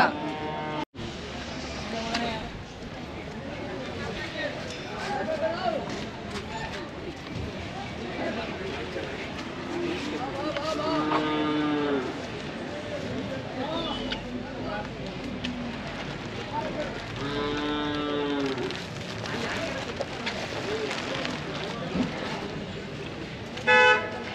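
Cattle at the Siddaganga Math cattle fair in Tumakuru give a couple of drawn-out, rising and falling moos against a busy outdoor din of crowd chatter and vehicle horns, with people talking nearby throughout.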